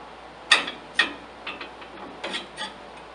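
U-bolt worked onto a Ford axle tube shock plate: a few sharp metallic clicks and scrapes, followed by softer rubbing taps, close and quiet, with no speech.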